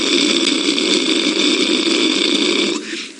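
A human voice imitates hot air balloon burners firing, producing a loud, continuous breathy roar held for about three seconds before trailing off.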